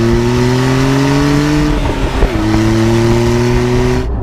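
A Porsche 911 Carrera T's turbocharged flat-six engine revs loud and close, holding a steady tone, dipping briefly through a gear change, then climbing again before cutting off abruptly.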